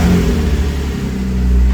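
A 987 Porsche Cayman S with a naturally aspirated rear-mounted flat-six, crash damaged at the front, runs with a steady, loud, close engine drone and a slight rev, with no talking.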